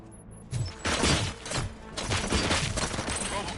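Gunfire in the RoboCop: Rogue City video game: rapid bursts of shots and clattering impacts, loud and close, stopping briefly and then resuming as a dense volley.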